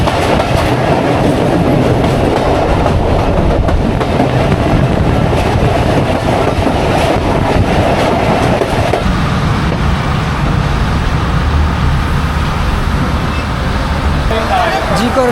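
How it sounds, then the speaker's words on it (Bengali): Betna commuter train on the Khulna to Benapole line running on a rainy morning, with a loud, steady rumble and rhythmic clickety-clack of wheels heard from inside the carriage. "জিকরগাছ রেলওয়ে স্টেশন থেকে ছেড়ে দিল।"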